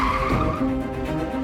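A car pulls up and skids to a stop, its tires squealing in a short, loud screech that holds a steady pitch for about a second and a half.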